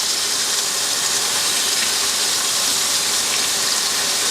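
Bacon and a burger frying in a pan inside a camper van, a steady broadband sizzle that stays even and close throughout with no talking.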